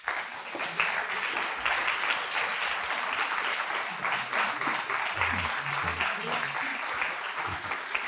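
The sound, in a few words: applause for Patrícia Reis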